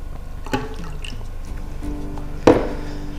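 Distilled water is poured while making ORMUS from seawater, heard as a couple of close splashy liquid bursts with light dripping between them in a quiet room, with no talk.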